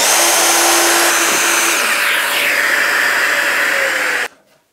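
A plunge router cuts a hinge recess in a keyboard cabinet workpiece, guided by a jig held with two clamps; a loud steady motor whine with cutting noise runs close and alone for about four seconds, then stops abruptly.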